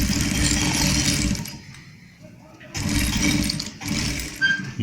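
A sewing machine stitching black canvas on a gents' pant pocket, a rattling mechanical hum in two bursts with a pause between, under a voice.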